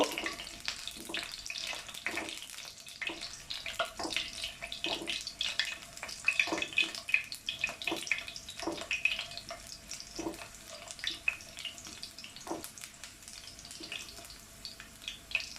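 Garlic fries in a pan for a sweet, sour and spicy grape pickle: a steady, soft sizzle runs throughout, broken by frequent light stirring clicks and pops, close up and without voices.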